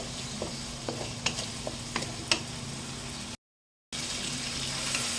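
Tomatoes and onions browning in a pan ahead of sautéing squid, with a steady close sizzle and a few sharp utensil scrapes and clicks before a brief dropout, then the frying hiss resumes.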